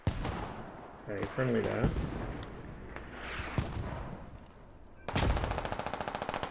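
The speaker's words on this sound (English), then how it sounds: "Got someone firing over my head." Gunfire in the military shooter game Squad: distant rattling bursts and single booming shots overhead, ending in a loud rapid automatic burst, with someone talking briefly over the battle noise.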